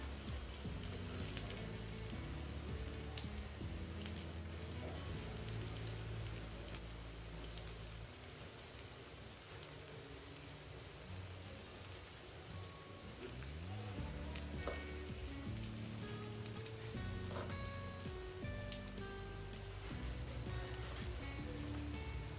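Aloo tikki potato patties fry in a pan over medium heat, giving a steady, fairly faint sizzle and crackle that carries on throughout with no talking, over quiet background music.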